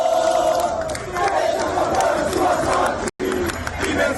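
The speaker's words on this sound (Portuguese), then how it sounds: "A gente está vendo a torcida ali reunida, não só torcedores do Santos" Crowd of gathered Santos football fans chanting in unison outdoors: a loud, sustained, rhythmic roar of many voices, continuing throughout with a brief cut near the end.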